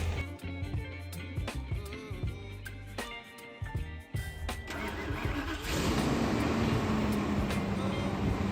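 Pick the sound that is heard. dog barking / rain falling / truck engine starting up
truck engine starting up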